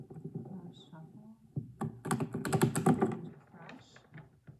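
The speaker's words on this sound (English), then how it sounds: "how many times do you guys think I should shuffle these cards?" Tarot cards being shuffled close by, a rapid burst of riffling clicks and taps following a quiet murmur of speech.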